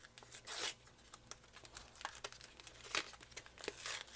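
A Naruto CCG Broken Promise blister pack is torn open and crinkled, close plastic crackling and tearing in irregular bursts, loudest near the start and again toward the end.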